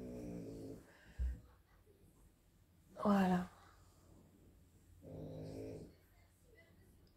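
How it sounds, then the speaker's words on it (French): A dog snoring indoors, with a few soft rumbling breaths close by between bits of quiet talk. "Vous avez les ronflements du chien."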